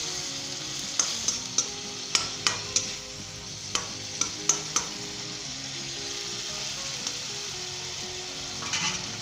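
Egg and tomato masala for a spicy scrambled-egg karahi sizzles in the karahi while a spatula stirs it. Sharp taps and scrapes repeat through the first half over a constant hiss.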